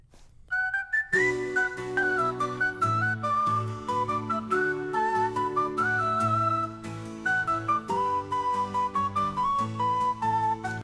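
A bright, whistle-like AI-generated melody plays steadily over a low backing accompaniment, with quick notes running for about ten seconds.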